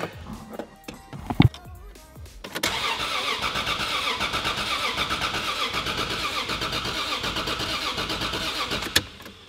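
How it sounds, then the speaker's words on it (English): After a few clicks and a clunk, a Toyota 2JZ engine swapped into a Volvo cranks with a rapid rhythmic churning for several seconds without starting, then stops with a sharp click. "So let's find out if the 2JZ will start."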